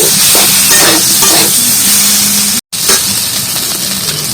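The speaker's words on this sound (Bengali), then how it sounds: "আলুটা ভালো করে ভেজে নেব" Potatoes frying in a pan with soaked ginger water and salt, cooked for a vegetarian cauliflower kalia; a steady close sizzle with stirring scrapes, a brief dropout midway, then the hiss continuing.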